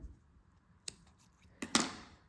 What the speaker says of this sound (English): then we can cut the yarn